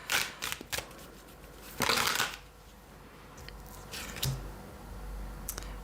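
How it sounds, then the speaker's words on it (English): Tarot cards are reshuffled in a few short, close bursts of papery riffling, separated by quiet gaps. "I'm going to reshuffle that because I'm not sure where it goes"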